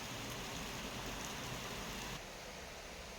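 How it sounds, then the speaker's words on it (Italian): Sudden rain falling outside a balcony patters as a dense, steady hiss of drops, fairly soft and continuous, easing slightly near the end with no voices present. "Mi piace molto ascoltare la pioggia"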